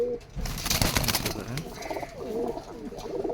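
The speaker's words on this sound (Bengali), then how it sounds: "গোল ফটকা কবুতর আছে দেশি," Native round fantail pigeons coo nearby in a loft, soft throaty rolling coos repeating under faint background rustle and flutter.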